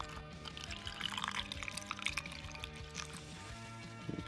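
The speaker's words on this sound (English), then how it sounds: "we're gonna pour our water in." Water poured into an ice tray, a steady close liquid splash and trickle with dripping, lasting a few seconds with no talk.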